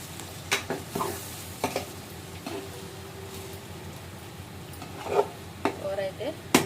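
Curry with ginger paste being stirred lightly in a pan, a faint sizzle underneath a few scattered scrapes and taps of the spoon, close and fairly quiet, with no talking.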